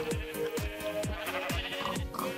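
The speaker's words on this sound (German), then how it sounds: "Das sind orange Schafe." Sheep in the video game Minecraft bleat repeatedly, about five short wavering calls in a fairly even rhythm, loud and close with no talking over them.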